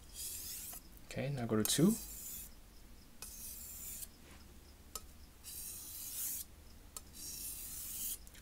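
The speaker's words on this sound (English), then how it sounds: "when you hear the sound changing, and it's getting finer and finer, it means that you're removing, a lot of the excess burr away" A Wusthof Santoku knife stroked across a Japanese whetstone in evenly spaced, close scraping passes, each a short gritty swish, with a brief spoken instruction partway through.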